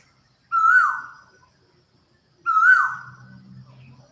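A female bird calls at sunrise in Thailand, two loud, clear, descending whistled notes about two seconds apart, with a faint low hum under the second call.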